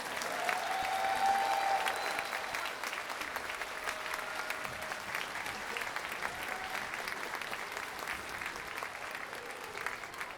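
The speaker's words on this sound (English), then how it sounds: "Let's give them another round of applause." A school audience applauds after a Bellbrook Middle School 6th grade band concert, a broad, steady round of clapping from a large crowd, strongest at first and easing slightly but continuing throughout.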